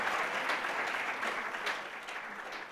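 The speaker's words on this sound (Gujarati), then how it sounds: "તેમના માટે તાળીઓ પાડો" An audience at the Livewellcon 2024 conference breaks into a dense, steady round of applause, many hands clapping together in a hall with no voices over it.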